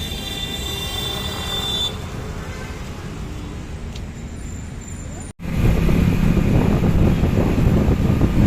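A car driving home at night after a movie, with steady road rumble and wind noise that briefly cuts out and then returns louder.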